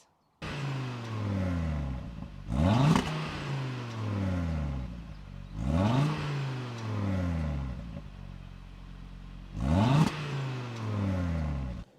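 An Audi RS3 inline-five engine revs repeatedly through a twin exhaust, each rise climbing in pitch and snapping off with a crackle, about four pulls with brief idles between.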